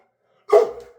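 Dog giving one sharp, loud bark close by while waiting for fish skin, the sound decaying quickly into silence.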